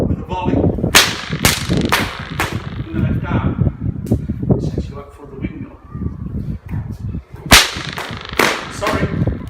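A whip snaps repeatedly in the windmill four corners cracking technique, giving sharp loud cracks at irregular intervals, interspersed with someone talking through the routine.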